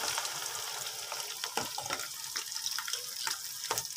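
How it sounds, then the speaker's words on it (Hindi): Okra dropped into hot ghee sets off a quiet, crackling fry close by, with scattered sharp pops and light clatters of stirring over a soft hiss. "घी जो है वो तकरीबन गर्म हो चुका है, तो अब हम इसके अंदर भिंडी को ऐड कर देते हैं।"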